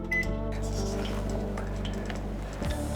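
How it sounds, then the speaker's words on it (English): Microwave oven running with leftover pasta heating in a plastic container, a steady low hum and drone holding throughout with a brief shift near the end. "Got some microplastics into my pasta for microwaving it in the plastic container"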